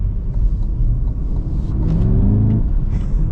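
A 2026 Cadillac CT5-V Blackwing with a manual gearbox pulls hard, its engine a steady loud rumble that climbs in pitch as the car accelerates, heard from inside a quiet, luxurious cabin.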